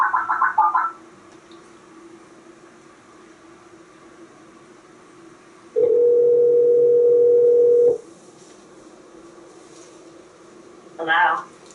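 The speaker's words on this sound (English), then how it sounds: "Let me try to call this person back." A telephone dial tone sounds for about two seconds while a call is placed back to a caller on a live call-in show, set between quieter stretches of line noise and brief bursts of other sound.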